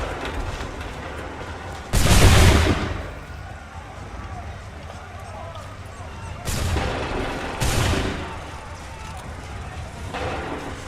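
Musket volleys in the video game Assassin's Creed III: loud, sharp blasts of massed fire, one big burst early and two more later, set against a low background murmur and a voice talking.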